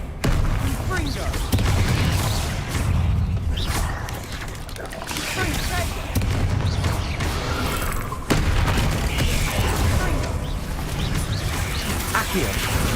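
Repeated Confringo explosive spell blasts in Hogwarts Legacy, loud booming bursts hitting one after another over dense, continuous combat noise, with a player shouting over the din.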